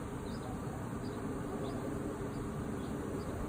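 Swarming honeybees in Arizona, a dense continuous buzzing hum overhead, steady and moderately loud throughout with no voices.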